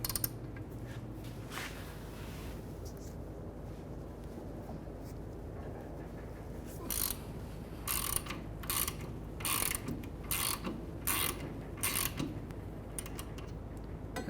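Ratchet and 14 mm socket loosening the rear brake caliper bracket bolts on a 2015-2019 Hyundai Sonata: quiet ratcheting, then a run of crisp, evenly spaced clicking strokes close by.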